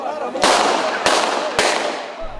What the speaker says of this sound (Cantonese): 首都的黎波里不斷傳出炮彈聲同埋槍聲